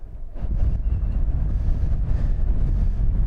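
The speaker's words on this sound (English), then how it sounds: "Yeah, it's windy. I'm sure you're hearing it." Strong wind buffets the microphone at an abandoned mine site, producing a constant low roaring rumble with no voices.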